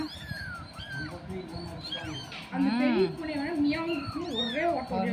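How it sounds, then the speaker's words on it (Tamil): Several young kittens meow repeatedly at close range, with high, wavering overlapping cries, while people talk nearby. "மியாவ் இதெல்லாம் மியாவோட குட்டீஸுங்க"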